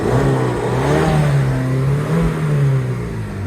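An Alfa Romeo 2.2 JTS engine, bonnet open, revs loudly and steadily up close, a deep rumbling roar that rises and falls slightly, with no voices.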